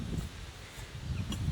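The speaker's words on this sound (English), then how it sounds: "It's getting very windy today." Wind gusts blow across an outdoor garden near a chicken coop, a steady low rumbling roar that swells and eases without pause, with no voices.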